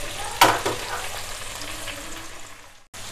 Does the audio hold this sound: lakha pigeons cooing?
no